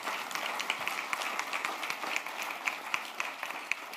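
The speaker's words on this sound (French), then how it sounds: "C'est sympa de se faire applaudir hein," Audience at a French round-table discussion applauding, a moderate spread of individual claps with distinct sharp hits standing out from a steady patter, fairly close and continuous.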